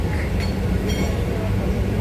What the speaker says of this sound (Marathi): अरे ट्रेन निघाली